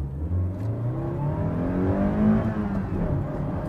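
A first-generation Toyota MR2's engine revs hard under full acceleration, its pitch climbing steadily through the gears, close and loud with no talking.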